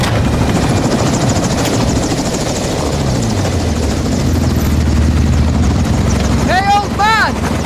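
A helicopter in the video game Modern Warfare II drones with a loud, continuous rotor and engine roar that fills the scene. Brief tonal game sounds cut in near the end.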